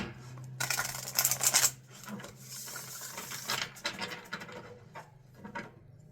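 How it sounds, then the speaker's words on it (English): A quick flurry of riffling paper taps as cards are shuffled, followed by softer handling sounds close to the microphone. "let's shuffle it like this again"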